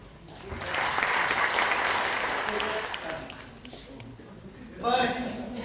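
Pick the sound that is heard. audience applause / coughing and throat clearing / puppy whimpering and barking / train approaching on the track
audience applause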